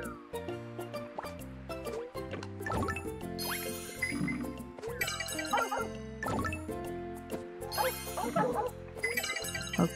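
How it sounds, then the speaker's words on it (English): A pet dog barks excitedly, with yips heard over game music with tinkling, chiming tones playing throughout. "dog suddenly was very happy that I did that."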